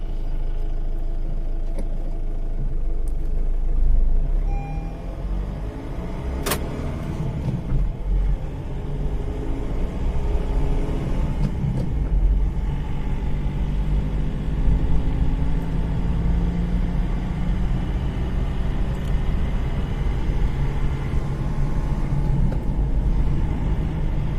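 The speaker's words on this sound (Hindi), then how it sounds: "तो चलो करते हैं स्टार्ट गाड़ी को।" Honda City car running with a steady low engine rumble and road noise throughout, a brief louder surge near the start then a constant drone as the car drives, no talk.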